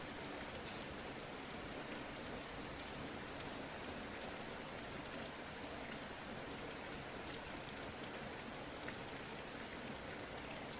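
Steady, even rain pours down in a dense, continuous hiss, close and unbroken throughout with no voices or other sounds.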